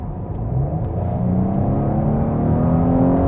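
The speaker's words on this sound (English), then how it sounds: "if you are in a comfort mode and hit the throttle, let's see how the car does that" An Audi RS5 Coupé accelerates hard from 60 km/h in comfort mode, its engine note rising in a steady loud growl with climbing harmonic whine and road rumble, heard from inside the car.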